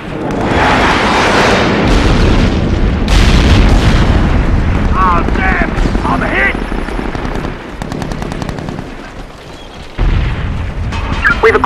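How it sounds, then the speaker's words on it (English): Airstrike explosions and automatic gunfire from SOCOM 4, a dense, loud barrage of booms and rapid bursts running almost continuously, with voices calling out over the chaos. "Airstrike inbound."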